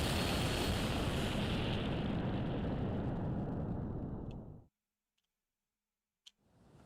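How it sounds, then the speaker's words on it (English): Big explosion in the Fate/Grand Order video game, a loud sustained rumbling blast that cuts off abruptly into silence, followed by a few faint clicks. "That sounded like a big explosion."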